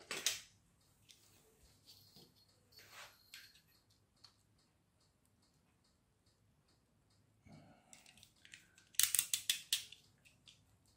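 Scissors cut out a homemade lampshade piece from stiff, glued material, making sparse close snips and crinkles separated by quiet pauses, ending in a brief burst of louder crisp cutting and rustling.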